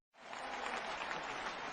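Applause from an audience at a business gathering in Lakhisaray, starting abruptly and holding steady at moderate loudness without talk.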